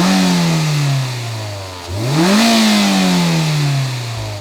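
A Mazda MX-5 Miata engine revs, heard up close at the engine: a steady drone dips, then climbs sharply in pitch and settles back down, loud throughout.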